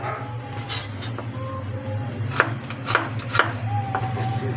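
Tomatoes, garlic, ginger and onions being chopped on a cutting board, a knife striking in a few sharp, close, separate knocks over steady low background hum.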